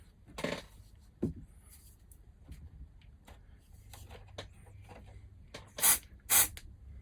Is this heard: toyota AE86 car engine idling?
no